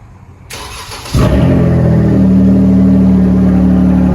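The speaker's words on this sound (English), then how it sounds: "I'll give it a quick start for you guys. Gotta love remote start." A Dodge Challenger GT fires up by remote start: a faint click and whir, then the engine catches with a loud burst and settles into a steady, rumbling idle close by.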